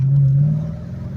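A 2016 Dodge Charger with a manual transmission accelerates hard, its engine droning loudly and steadily up close before the note fades slightly toward the end.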